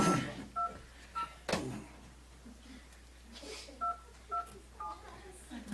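Telephone keypad tones during a school board meeting, about seven short, even beeps spaced unevenly across the span, faint and distant against room hiss and murmur.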